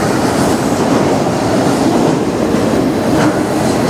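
An autorack freight train hauled by CP and UP locomotives passing near a road bridge, a loud, steady rumble and roar of wheels on rails with faint clickety-clack, continuous and close throughout.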